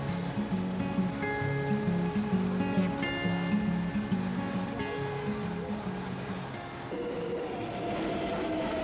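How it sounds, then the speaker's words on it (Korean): Rumbling New York City subway train ride in winter, with steady rail noise, occasional squeals and tonal hums from the wheels, and faint clatter throughout. "지하철을 타고 숙소로 돌아가는 길."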